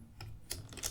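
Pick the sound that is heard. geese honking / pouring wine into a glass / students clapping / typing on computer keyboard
typing on computer keyboard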